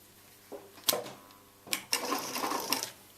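A sewing machine stitches fabric for a neck support pillow in two short bursts of whirring, with a pause between them. The sound is close and fairly quiet.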